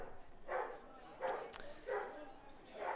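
Dogs bark in short, spaced yips and woofs at a high school baseball game on a Bark at the Park day, fairly faint against the ballpark background, with people talking nearby.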